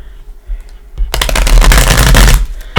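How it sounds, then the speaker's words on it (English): A tarot card deck is riffled close to the microphone in a rapid, crackling burst of snapping cards lasting over a second, after a few soft handling taps. "Let's give it a couple shuffles."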